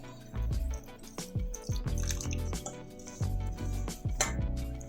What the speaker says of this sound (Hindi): और अब धीरे धीरे पानी डालेंगे।